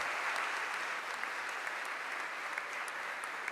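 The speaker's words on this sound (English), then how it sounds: "we'd like to give you an applause to thank you for this work" A church congregation claps in thanks at the blessing of an icon for public veneration at St. Gabriel, producing a soft, steady round of applause that holds evenly throughout.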